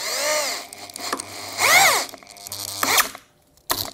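A Dongcheng electric drill drives a screw into material in a few slow, controlled bursts of motor whine, rising and falling in pitch, with brief pauses between and a short final burst.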